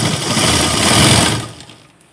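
A sewing machine running steadily while stitching a blouse seam in a tailoring class, with a close, continuous whirring hum that fades out near the end.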